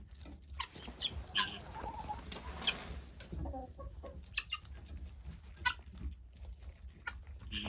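Chickens and guinea fowl in a cold farm coop cluck softly in scattered bursts, faint and close, against a quiet low background rumble.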